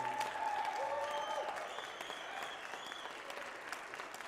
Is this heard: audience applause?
yes